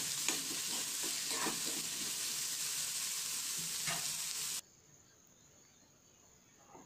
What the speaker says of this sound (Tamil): ரெண்டு மீடியம் சைஸ் வெங்காயத்தை நல்லா பொடிசாக சாப் பண்ணியிருக்கோம், அதையும் சேர்த்து நல்லா வதக்கிக்கலாம்.